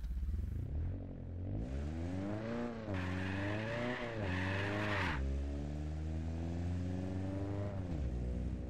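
Japanese car in a racing video game doing a donut, the engine revving hard through gear changes while the tires squeal loudly for a couple of seconds, then settling into a steady high drone.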